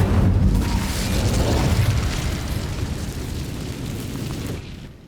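The Incendio fire spell cast in Hogwarts Legacy erupts as a loud, sustained fiery roar and boom. It rumbles close for about five seconds, then cuts off abruptly.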